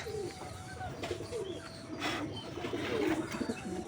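Pigeons cooing nearby in a repeated, soft, throaty rhythm over faint background noise, with no speech.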